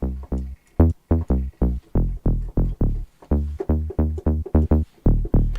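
A punchy synth bass preset in Serum for melodic techno, heard as a steady run of short, deep, plucked notes in a bouncy rhythm, loud and alone.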